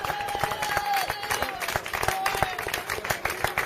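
Audience applause and clapping ring out for a sound technician and musicians at an outdoor glosadors improvised-verse contest beneath a bell tower, fairly faint with a continuous voice speaking over it.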